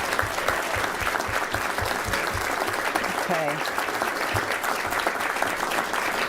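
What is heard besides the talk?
audience applause for honorees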